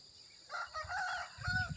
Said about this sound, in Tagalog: tumilaok na ang manok